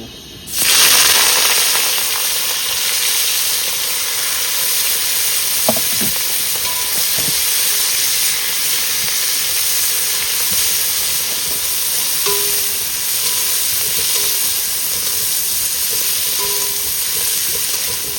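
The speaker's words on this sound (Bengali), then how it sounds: "তেল গরম হয়ে গেছে প্রথমে হালকা করে চিংড়ি মাছটা একটু ভেজে" A steady loud sizzle of prawns frying in hot mustard oil, with a few faint clinks of a utensil stirring.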